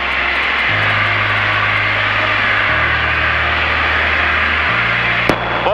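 Small propeller aircraft drones loud and steady near a runway on descent, engine pitch stepping between levels, with a brief click near the end.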